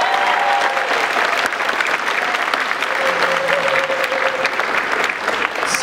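Dense, sustained applause from an anime convention masquerade audience in a large hall, loud and even throughout, with faint voices underneath.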